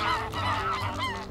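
Geese honk in a former cornfield, a dense overlapping flock calling loudly and continuously at close range.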